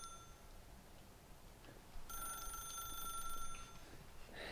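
A telephone ringing in the video game The Stanley Parable, a steady electronic ring that grows brighter partway through, heard over a low hum of background game ambience with no talking.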